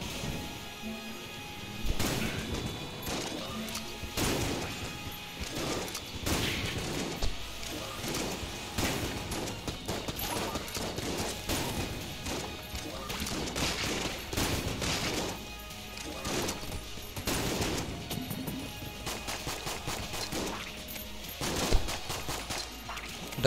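Dense, rapid video game gunfire from the main gun in Enter the Gungeon, with bursts of shots, impacts and crashes layered over game music at moderate volume.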